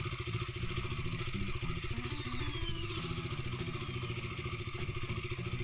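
A motorcycle engine idles steadily while warming up after being started, a continuous mid-pitched rumble with a quick periodic pulse, close and alone with no talking.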